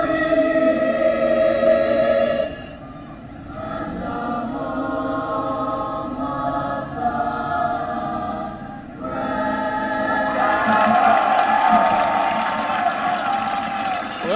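A stadium crowd at a high school football game at Ron Poe Stadium stands and cheers for the national anthem, a broad steady roar heard from a distance with tonal music and noise layered over it.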